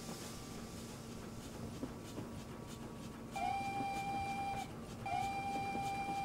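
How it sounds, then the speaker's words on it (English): Steam locomotive whistle on the West Somerset Railway in Train Simulator 2014, two clear sustained toots with a sharp upward bend at the start, sounding over a quiet rhythmic chuffing background. "It's such a fantastic whistle."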